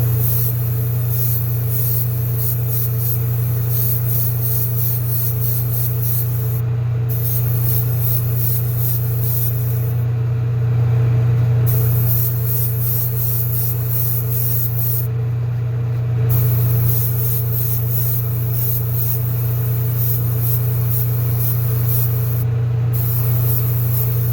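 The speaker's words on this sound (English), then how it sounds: "So I'm trying to get that little bit of spray just inside the yellow" An airbrush sprays a yellow-to-green fade onto the #46 City Chevrolet car, a long steady hiss broken by a few brief pauses over a constant low compressor hum.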